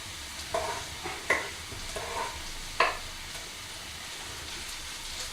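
Garlic sizzles steadily in a hot pan, a soft crackling hiss broken by a few clinks of a utensil stirring, close and fairly quiet.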